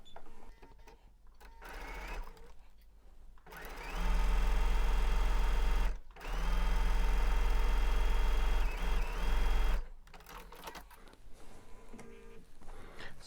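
A sewing machine chain-stitches 12 by 1.5 inch quilt strips together in two long steady runs, each several seconds, separated by short pauses, with quieter handling and light mechanical noise between bursts.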